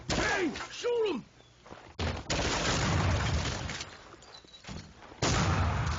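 Max Payne 2 gameplay carries bursts of gunfire and heavy thudding shots, loud and repeated, with a voice audible at the start amid the game's action sounds.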